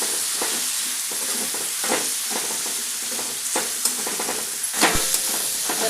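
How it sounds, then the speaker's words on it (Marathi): Leftover cooked rice and vegetables with masala stirred in a pan, with a constant sizzle and repeated scraping taps of the spoon, a few sharper clacks toward the end. "छान असं हलवून घ्यायचं"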